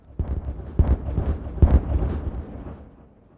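In the colony-building game Timberborn, a chain of explosive charges detonates: several heavy, rumbling booms land one after another over a few seconds, the loudest near the middle, before the sound trails off into a low fading roar.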